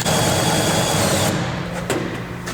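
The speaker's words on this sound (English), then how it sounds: "I might just use the big drill bit first to get it close." A loud power drill boring with a large drill bit whirs steadily, then cuts out partway through, leaving a fading mechanical rattle.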